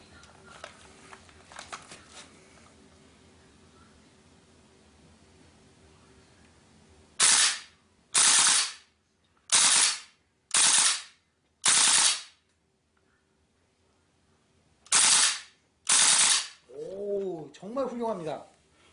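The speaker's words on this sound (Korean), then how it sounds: "다시 한번 자동으로 놓고 그러면은 쏘도록 하겠습니다." WE M14 EBR Mod1 gas blowback airsoft rifle on full auto, firing seven loud sharp bursts in quick succession after a quiet stretch, with a voice speaking near the end.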